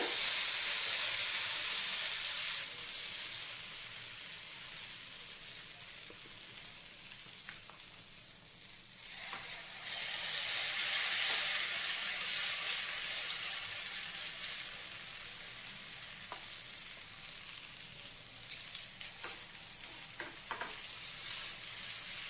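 Spoonfuls of batter frying in hot oil on a griddle, a loud, steady sizzling hiss that swells and eases in waves with a few faint clicks of a spoon, with no talking.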